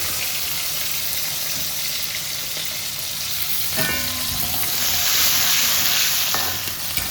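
Finely chopped garlic fries in a pan over a high flame, giving a steady, close sizzle with occasional stirring clatter that swells louder toward the end.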